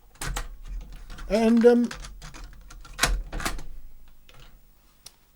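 Mechanical clicks and clunks as a cassette tape is pushed into an old cassette recorder, a few short sharp snaps close by, with someone talking over and between them.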